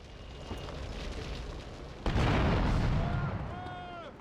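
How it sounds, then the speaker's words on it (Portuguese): A motorcycle bursts into flames and explodes in GTA Vice City Stories on PS2: a loud broadband blast hits midway and roars on as a sustained fiery rumble, following a steady engine drone, with game voices heard over it. "Ai, minha moto pega fogo."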